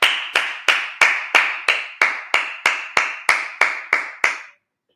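A congregation at a Sabbath service in Minnesota claps in unison, about fourteen sharp, evenly spaced claps in a steady rhythm, close and loud, then silence.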